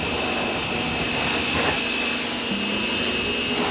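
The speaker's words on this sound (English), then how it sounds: "When I clean tires, I find that using the pressure washer is the absolute fastest method" A pressure washer sprays a dirty construction tire with a loud, steady, unbroken hiss and roar that fills the whole stretch, close by and without talking.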